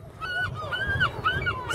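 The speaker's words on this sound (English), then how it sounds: "Seagulls everywhere." Seagulls call at the seaside in Margate, several bright, rising-and-falling cries overlapping one another over a low wash of background noise, fairly close and steady across the moment.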